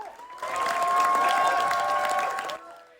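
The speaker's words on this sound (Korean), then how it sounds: "7분간의 기립박수가 쏟아졌습니다" At a Cannes Film Festival screening, a standing ovation swells in after a brief lull, a thick wash of many people clapping that holds strong for about two seconds before cutting back down, with sustained tones layered beneath.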